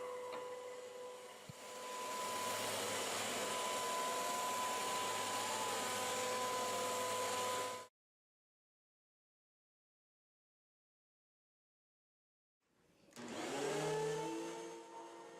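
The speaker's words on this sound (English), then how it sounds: "This vacuum is pretty loud at just over 80 decibels on both carpeting and hard flooring." A Hoover WindTunnel T Series Pet Rewind bagless corded upright vacuum cleaner running with a loud, steady whooshing drone for several seconds, then cutting to silence before starting up again near the end.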